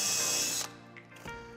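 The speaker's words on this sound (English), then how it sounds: "Then I use my VIX bit right there and drill down and in" A Vix self-centering bit drills a pilot hole while drawer boxes are being installed: a short, loud whir that cuts off abruptly, followed by a fading mechanical hum.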